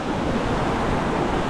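Rushing water from a stream fed by a waterfall in the hills near San Jerónimo de Surco, Peru, heard as a steady, dense wash of broadband noise without pause.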